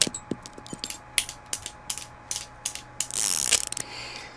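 Video game gun reloading: a series of sharp metallic clicks and ratcheting mechanism sounds, then a brief rattling burst of casings dropping and clinking, close and dry with no voices.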